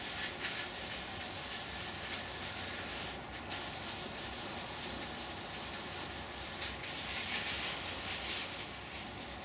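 Steady, close rubbing strokes of a cloth or brush wiping sanding sealer across a wooden surface, continuous with brief pauses between passes.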